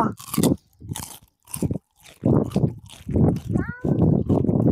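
Bites into a crunchy okoy fritter from Cebu, with several loud, close crunches between bursts of a person talking.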